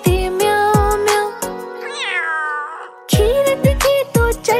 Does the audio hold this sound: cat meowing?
yes